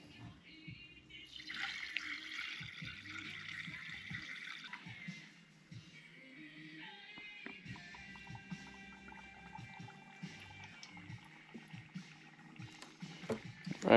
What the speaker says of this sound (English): Now I'm going to put some coolant in.